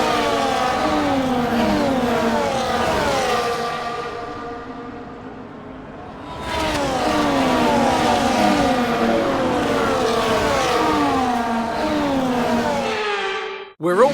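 Formula 1 cars in the F1 24 racing game rev and drone through a formation lap, loud engine notes rising and falling in overlapping sweeps, briefly easing off mid-way before surging again and cutting off at the end.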